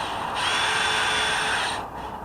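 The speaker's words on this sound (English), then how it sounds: "Which means he's going to start it with the drill and then screw it in." A power drill boring pilot holes for screws in wood, one steady whining run of about a second and a half that winds down, close and fairly loud.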